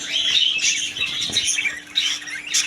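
Caged birds in a bird shop give off a steady mix of high chirps and squawks, with brief bursts of wing flapping, busy and close throughout.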